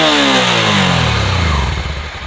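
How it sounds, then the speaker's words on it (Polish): A fuel-efficient motorcycle engine running loud and close, its steady throb rising and falling as it revs, with a faint mechanical clatter and no talking. "Patrzcie, jak ten silnik pracuje."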